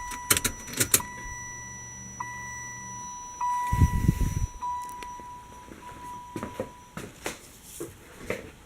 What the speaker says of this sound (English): This fuel pump sounds fucking terrible.